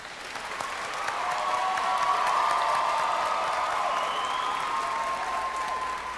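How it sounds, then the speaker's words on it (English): A congregation inside a cathedral breaks into sustained applause and cheering that swells and holds steady as a broad, reverberant wash of clapping. "We were cheering, we were whooping,"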